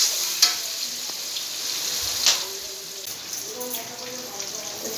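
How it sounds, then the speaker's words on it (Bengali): Sliced onions with bay leaves frying in oil in a pan for chicken kosha, giving a steady, close sizzle with a few light clinks and stirring scrapes. "পেঁয়াজগুলো একটু লাল লাল করে, বেশি লাল করবো না, একটু লাল লাল করে ভেজে নেব।"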